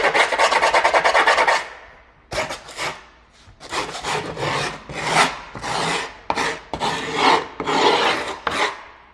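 A hand file rasping along the edge of skateboard grip tape in repeated strokes: a long scrape, then a run of shorter, rhythmic rubbing passes, close and loud with nothing else heard.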